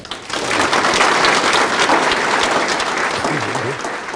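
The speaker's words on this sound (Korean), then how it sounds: "귀한 걸음 해주신 이순재 선장님을 힘찬 박수로 환영해 주시기 바랍니다" An audience gives loud, sustained applause to welcome a guest at a Korean documentary event, steady dense clapping from start to finish with no break.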